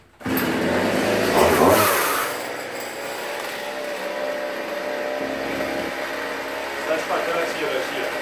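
A Poulan chainsaw with a 40 cm bar cuts through wood, its engine snarling loud and close with a harsher peak in the first couple of seconds, then holding a steady, buzzing drone.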